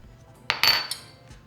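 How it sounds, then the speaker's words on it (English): Drained, salted cooked potatoes pressed down in a pot with a metal utensil, a few sharp metallic clinks and scrapes in quick succession, close and fairly quiet. "now that we drain our potatoes, we're just going to smash them down"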